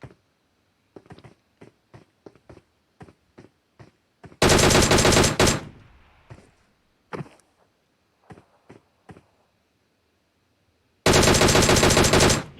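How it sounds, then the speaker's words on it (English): Gunfire in a competitive online shooter match: sparse single shots ticking away, then two long, loud bursts of rapid automatic fire, one mid-way and one at the end. "He is really shooting whatever he sees in sight."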